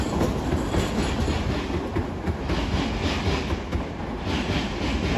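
A London Northwestern Railway class 350 electric multiple unit at London Euston on the West Coast Main Line, heard as a steady, loud rumble of wheels and carriages running past without a break and with no voices.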